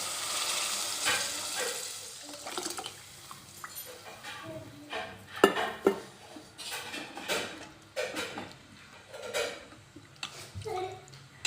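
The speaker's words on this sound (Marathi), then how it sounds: "आता आपण यामध्ये मोडचं पाणी घालूया" Water from boiled sprouts poured into a hot pan for Kolhapuri misal, a sizzle and splash that fade into uneven bubbling, with scattered clinks and scrapes of stirring.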